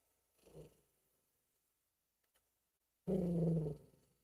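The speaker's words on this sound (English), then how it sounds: "See, now he's growling at me again." A dog growls at close range indoors: a faint low rumble early on, then after a quiet gap a louder, sustained growl lasting under a second.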